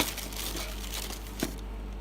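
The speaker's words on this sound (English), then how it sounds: "I'll just cut the tops off the plastic bags here." Plastic bags holding parts of an aquarium canister filter are cut open and handled, giving close, faint crinkling and rustling with a small sharp snip or tap partway through.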